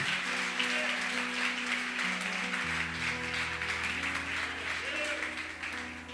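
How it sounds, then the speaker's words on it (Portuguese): A church congregation applauds in a broad continuous patter of many hands, while a low sustained keyboard or organ tone shifts underneath and a faint voice comes through. "Aplauda Jesus"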